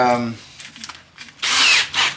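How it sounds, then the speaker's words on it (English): A power drill bores a small pilot hole into a metal exhaust for a budget chopper motorcycle, short loud bursts of whining drilling after a man's speech. "we're gonna start with a smaller drill bit for a pilot hole here"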